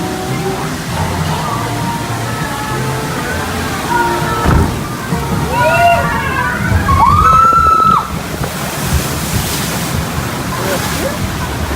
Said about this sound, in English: That was not the big splash yet.